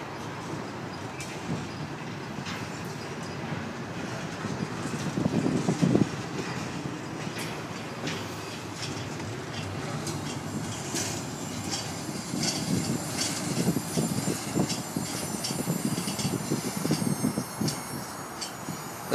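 Freight train Q143 passes at CP Spring with a steady rumble and rhythmic clatter of wheels over rail joints that lasts the whole stretch. It stays fairly close and even in loudness, with faint squeals and no talking.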